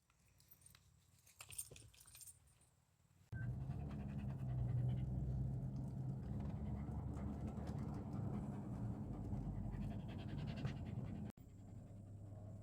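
Dog panting steadily and loudly close by for most of the stretch, heavy rhythmic breaths, outdoors on the grounds of an abandoned state school, with some faint jangling early on.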